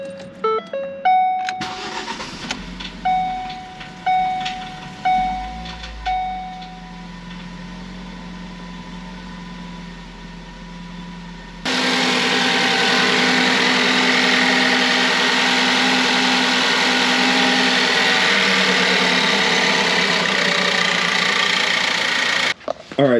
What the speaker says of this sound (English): So I'm gonna start it running for about 10 seconds or so without coolant